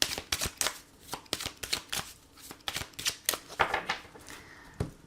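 An oracle card deck is shuffled by hand in quick bursts of riffling and flicking with short pauses between them, close and fairly quiet, with no speech.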